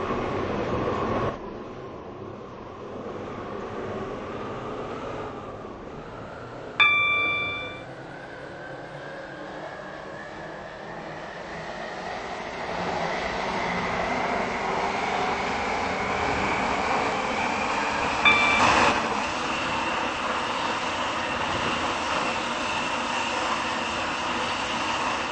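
A class 730 electric train on the Newry to Connolly run gives a steady cabin rumble under a motor whine that slowly climbs in pitch as it speeds up, with a brief chime partway through.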